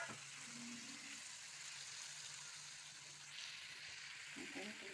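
Brinjal pieces frying in a pan after tamarind has been pressed in, giving a steady close sizzle with brief stirring clatter near the start and end.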